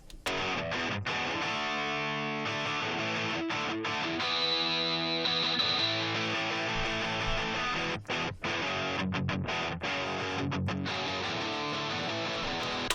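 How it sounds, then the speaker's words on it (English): Dense, buzzy distorted electric guitar from a guitar amp simulator with a harsh, fizzy top end, sustained chords ringing continuously with a few brief cutoffs, loud and alone. "you can really hear that nasty fizziness when I take this one band EQ out"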